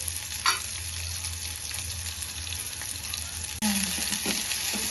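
Onions frying in a pan for tomato pulusu give a steady close sizzle with a low stove hum beneath; a brief clatter near the end brings a louder burst of frying, and no one speaks.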